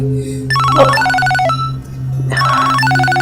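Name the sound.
phone ringtone ringing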